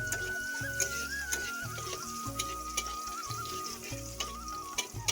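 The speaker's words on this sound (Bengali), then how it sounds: "তো পেঁয়াজটা ভাজা হয়ে গেছে" Onion fries in a pan for a prawn curry: a soft, low sizzle runs steadily underneath, with occasional faint clinks and a thin whistling tone.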